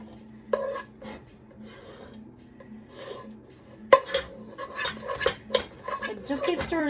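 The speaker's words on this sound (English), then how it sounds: "Just keep stirring until a dough ball forms with all the pieces of dough." A utensil scrapes and stirs thick cream puff dough in a metal pot, quiet at first, then a clatter and a run of busier scraping and knocking against the pot, close and fairly soft.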